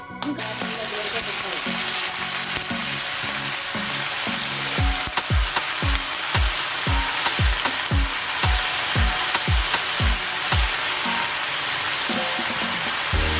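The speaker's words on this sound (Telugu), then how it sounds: "మన బీరకాయ తొక్కలు ఎంత చక్కగా వేగాయో" Steady crackling sizzle of ridge gourd peels frying in hot oil, continuous and close, with a series of regular low thuds like stirring in the pan.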